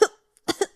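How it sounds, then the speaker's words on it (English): A man coughs harshly, one sharp burst and then three quick hacking coughs after a brief silence, close and loud with nothing else around. "coughed for ages before he managed to recover."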